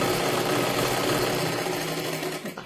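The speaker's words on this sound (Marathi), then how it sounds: "इथे एक शिलाई मारून घ्या मध्यभागी" A sewing machine runs steadily and close up, its rapid even whir of stitching through blouse fabric going on without pause before slowing near the end.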